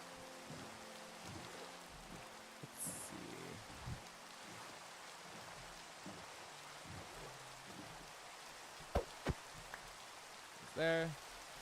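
Rain falls steadily in a video game, a faint, even hiss of drops behind a quiet voice and low background game sounds, broken near the end by a few sharp clicks and a brief louder burst.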